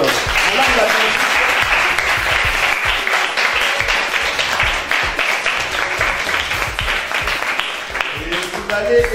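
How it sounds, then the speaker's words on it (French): A crowd at a children's foundation event claps for the female director, sustained loud applause filling the whole stretch with no break, voices faintly mixed in beneath the clapping. "Vous devez applaudir pour madame la directrice."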